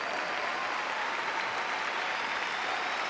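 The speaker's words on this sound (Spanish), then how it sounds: "Dele fuerte ese aplauso al Señor." Church congregation applauding the Lord during a sermon, a steady dense wash of many hands clapping at once, moderately distant and unbroken, with no voices over it.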